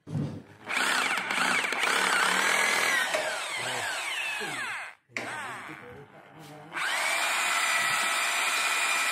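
A power drill bores into concrete to set a dynabolt anchor, a loud close grinding whine that runs for several seconds, cuts out briefly, then starts again, with no talking over it.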